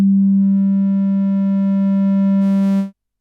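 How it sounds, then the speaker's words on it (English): A Modal Cobalt8 synthesizer oscillator holds a pure, steady sine tone, loud and unchanging for nearly three seconds before it cuts off abruptly, with no talking over it. "we can see we've got sine wave."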